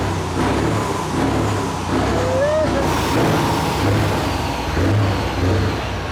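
A loud, steady 900-horsepower truck engine roar holds for several seconds at a motor show, deep and rumbling, with a brief whine rising midway and faint voices underneath.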